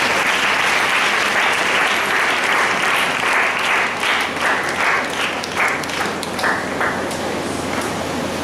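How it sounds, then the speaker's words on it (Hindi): An audience gives a loud welcoming round of applause that holds dense and close for several seconds, then thins into scattered clapping toward the end. "जोरदार ताली बजाकर आपका स्वागत करें"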